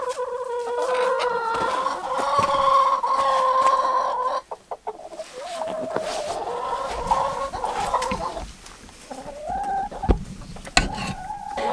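Hens clucking and murmuring inside a snowy-weather cattle panel greenhouse coop housing fifteen chickens, a steady layered chorus of nearby calls with brief pauses and occasional louder squawks.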